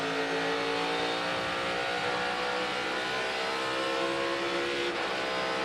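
NASCAR Cup Series stock car engine roaring loud and steady at Phoenix Raceway during a race, a dense sustained drone with a shift in pitch near the end.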